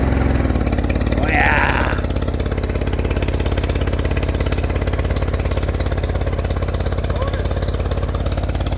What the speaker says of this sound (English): International Model SM. Don't even know what year. But it's here. And it's running now.